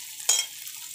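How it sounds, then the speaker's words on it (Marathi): A piece of chicken placed on a hot tawa griddle bursts into a sudden sizzle, a brief loud hiss that quickly settles into quieter frying crackle. "एक चिकनचा पीस असा तव्यावर ठेवणार आहे आणि छानपैकी तव्यावर"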